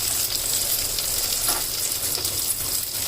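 Mint, curry leaves and fenugreek leaves frying in hot oil, a dense, steady hiss and crackle that carries on throughout, close and loud with no voices.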